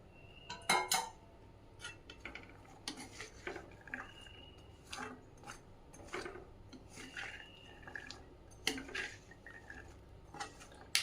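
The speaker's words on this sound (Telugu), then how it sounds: "రెండు నిమిషాల పాటు క్యారెట్ని ఇలా కలుపుకోవాలండి" A carrot fry being stirred in a pan: a spoon scrapes and clinks against the metal in intermittent strokes, fairly quiet and close, with a soft moist rustle and no talking.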